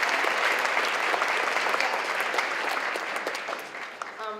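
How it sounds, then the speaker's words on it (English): Loud, dense applause from a girls' school assembly audience, many hands clapping steadily close by, slowly thinning toward the end. "We'll give them a round of applause."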